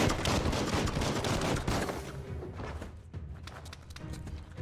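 Dense, loud gunfire in the Biomutant video game fills the first two seconds as a rapid continuous burst, then gives way to scattered, quieter shots and thuds.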